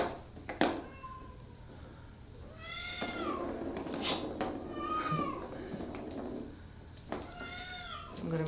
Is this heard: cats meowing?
yes